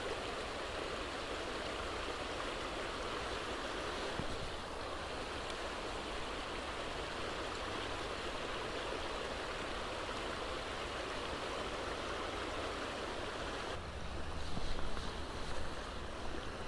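Creek water flows steadily over and through a beaver dam, a constant broadband rush with no talking, swelling slightly louder near the end.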